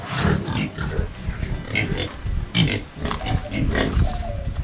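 Pigs on a farm grunt and oink again and again, some near and some further off, in an outdoor setting.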